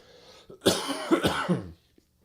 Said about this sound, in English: getting over a little bit of a cough here.